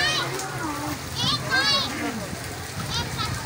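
Water splashes and sloshes nearby as something moves through a flooded street in Lyari, Karachi, with children's voices chattering and calling over the watery noise.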